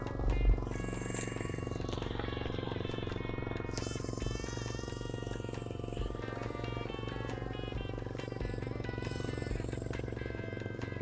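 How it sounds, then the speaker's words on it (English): A restored, once-abandoned mini bike engine idles steadily, a continuous buzzy putter with even rhythm, close to the microphone and running alone for several seconds. "Can't believe this thing's idling right now."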